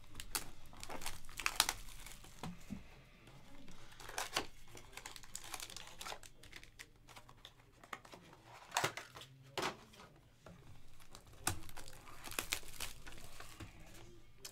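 Packs of 2021 Topps Triple Threads baseball cards being torn open by hand, with scattered crinkling and ripping bursts of foil wrapping at close range, quiet between tears.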